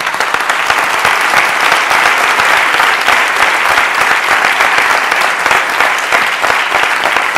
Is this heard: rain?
no